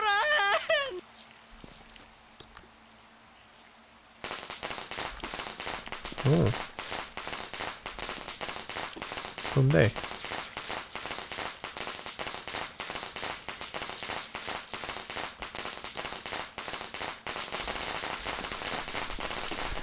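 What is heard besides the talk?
firecrackers going off in the video game Shadow Corridor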